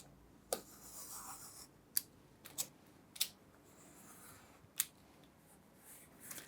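A knife cutting paper for bookbinding makes a few sharp, separate ticks and snaps spaced over several seconds, close and quiet against a near-silent room, with no voices.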